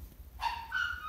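A puppy gives one short yip that trails into a thin whining cry, fairly faint over a low background rumble.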